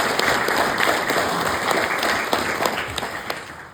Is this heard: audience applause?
yes